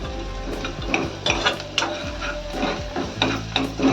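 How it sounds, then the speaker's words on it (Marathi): A spoon stirs coriander powder and turmeric frying in a pan while cooking val papdi bhaji, with repeated scraping strokes over a steady sizzle. "हे सगळं थोडं चांगलं भाजलं पाहिजे ना, म्हणून ते मी ढवळत राहते"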